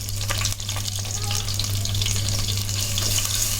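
Curry leaves and ginger garlic paste frying in oil in a pan for kaju chicken curry, a steady loud sizzle with stirring running throughout, close and continuous with no talking.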